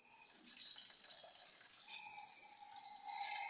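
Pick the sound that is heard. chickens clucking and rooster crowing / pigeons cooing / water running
water running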